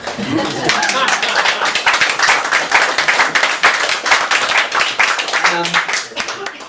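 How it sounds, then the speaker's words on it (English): An audience at an open mic poetry evening claps loudly and rapidly for a performer, the brisk close applause running several seconds before tapering off, with a voice coming in briefly toward the end. "Applause for Dominic's stamina."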